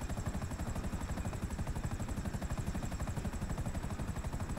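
A helicopter's rotor chops at a fast, even rhythm. The steady, unbroken thudding stays at the same loudness throughout, with no voices.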